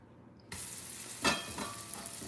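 Salmon croquettes drop into a hot pan and start sizzling, a close, steady frying hiss that begins suddenly after a quiet moment, with a brief louder crackle partway through.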